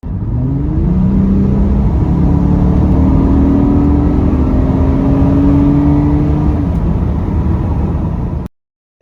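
An Acura MDX engine revs hard, its tone sweeping upward in rising pulls under a loud, close rumbling roar, then cutting off sharply near the end.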